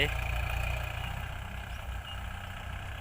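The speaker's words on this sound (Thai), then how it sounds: "วันนี้พาลงมาดูรถไถ" A tractor engine idles in a rice field in late-afternoon sun, its steady low rumble running throughout while someone speaks over it.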